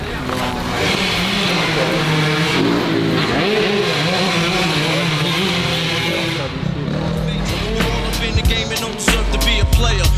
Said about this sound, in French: on va faire quelques tours avant de faire des tours chrono, histoire de se réhabituer un peu à la Stark Varg